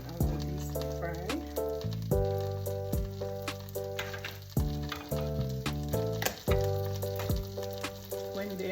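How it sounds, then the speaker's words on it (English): Ripe banana fritters fry in a pan with a soft continuous sizzle beneath prominent background music that plays throughout. "Allow these to fry with some more heat"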